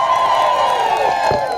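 A crowd cheers with a high, sustained ululating trill, loud and close, with clapping and shouts mixed in at a Catholic welcome for Bishop Prosper Lyimo.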